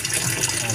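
Water leaks from a washing machine drain hose as a steady, close gushing flow, a brief continuous splash of running liquid.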